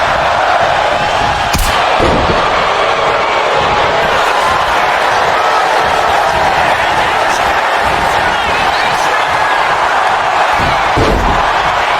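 Arena crowd at a wrestling singles match between Jey Uso and Jimmy Uso, cheering steadily and loudly throughout, with a few sharp thuds or slams cutting through the continuous roar.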